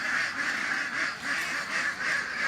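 A flock of egg-laying farm ducks quacks at dawn, around six in the morning, in a continuous chorus of rhythmic, pulsing calls with no voices.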